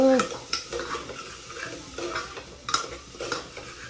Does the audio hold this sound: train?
no